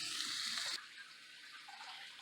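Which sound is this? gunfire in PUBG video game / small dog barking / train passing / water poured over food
water poured over food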